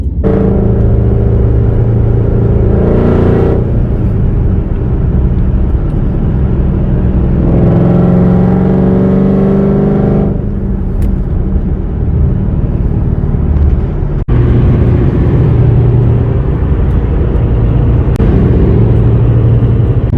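Engine drone and road rumble fill the cabin of a car driving on a group cruise, steady and loud throughout with slight shifts in pitch as it holds speed.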